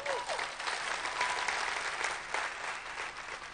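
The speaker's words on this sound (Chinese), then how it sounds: "再次给我们老板掌声好不好？" Applause from a large seminar audience of thousands, a dense steady patter of many hands sustained throughout, loud and filling the hall.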